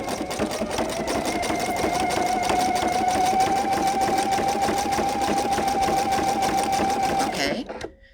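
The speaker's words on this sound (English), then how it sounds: "as I do my satin stitch, the entire stitch is going to be on the applique fabric" A home sewing machine running a satin stitch on applique fabric, a steady fast whirring hum for several seconds before stopping abruptly, close and prominent.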